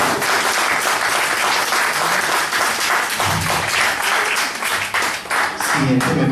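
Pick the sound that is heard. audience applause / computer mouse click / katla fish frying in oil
audience applause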